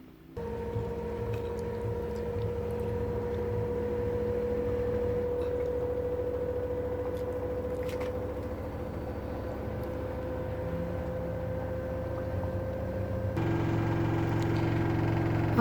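A new washer dryer washing machine in its spin cycle, giving a steady motor hum with a constant tone and vibration. It runs continuously at a fairly even level, then grows slightly louder and deeper near the end.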